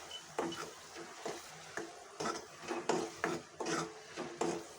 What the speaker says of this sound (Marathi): चांगलं परतून घ्यायचं अगदी तेल सुटेपर्यंत